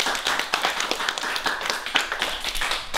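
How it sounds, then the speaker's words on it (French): A small audience at a children's bookshop event in Fresnes-en-Woëvre applauds two spectators, a light, crisp clapping from a modest group that holds steady for the whole three seconds. "Nous pouvons applaudir ces deux spectateurs."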